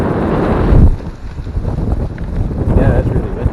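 Strong gusting wind buffets the microphone at a canyon rim near Jackson Falls, a loud low rumble that swells and eases unevenly, with a voice faintly present under it.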